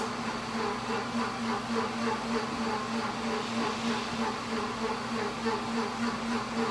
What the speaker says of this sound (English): I'm doing all this while my blender is cleaning itself